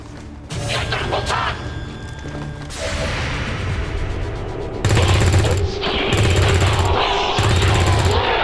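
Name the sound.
gunshots in the video game XCOM 2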